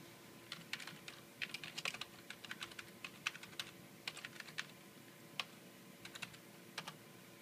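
Someone types an IP address into a web browser on a computer keyboard: a quiet, close run of quick, uneven keystrokes in short bursts with brief pauses between them.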